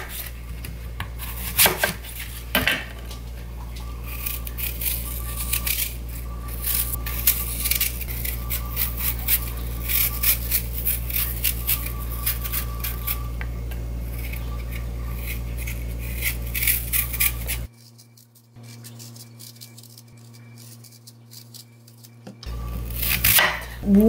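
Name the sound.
knife chopping apples and pears on a board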